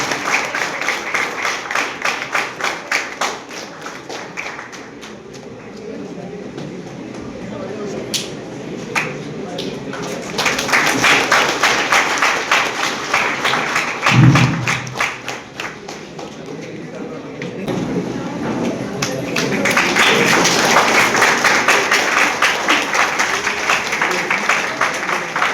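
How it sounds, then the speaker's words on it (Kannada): Students clap to applaud during a college felicitation ceremony at a road safety awareness program. Dense bursts of crowd clapping swell and fade in waves, with voices in the hall in places. "ವಿದ್ಯಾರ್ಥಿಗಳು ಚಪ್ಪಾಳೆಯ ಮೂಲಕ ಅಭಿನಂದಿಸಬೇಕು"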